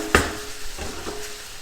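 Meat frying in butter in a hot pan for Malatya geleli kebab, stirred: one sharp utensil clink, then soft scraping and a low, faint sizzle, close by and without voices.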